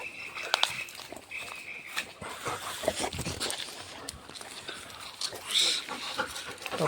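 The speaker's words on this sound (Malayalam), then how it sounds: "പട്ടി," A Labrador dog pants close by in quick, rhythmic breaths over a steady background hiss, with a few soft whimpers and faint voices.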